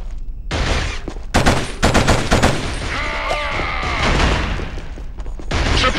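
Suppressive gunfire in the PlayStation 2 shooter Killzone: loud, dense bursts of automatic fire and booming impacts crowd together, pause briefly, then roll on again in a chaotic battle din with no talking.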